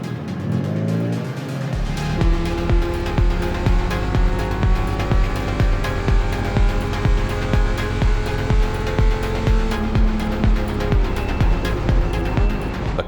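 Race car at full speed around a circuit, its engine loud and steady with rising and falling pitch as it shifts gears, close and continuous throughout with no talk.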